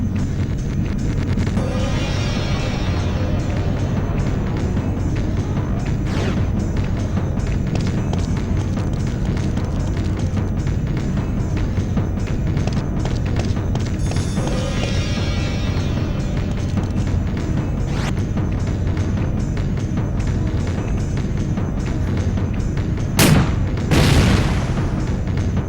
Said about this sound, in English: I'm gonna grenade launch him.